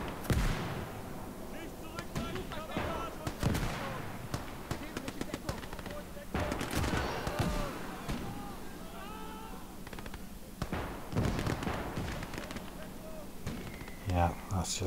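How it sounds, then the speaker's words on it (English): 152 mm artillery booms and scattered gunfire from a Gates of Hell skirmish at Mamayev Kurgan, with repeated sharp blasts and crackling shots throughout, heard beneath a talking voice. "152 artillery."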